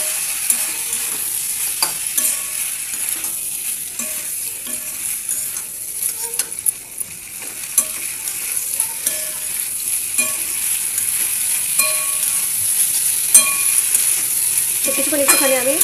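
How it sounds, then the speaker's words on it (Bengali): A spatula stirs spicy egg pasta with vegetables in a home kitchen pan, giving soft repeated scrapes and taps over a steady, faint sizzle of frying, close and continuous. "কিছুক্ষণ একটুখানি আমি নেড়ে নেব।"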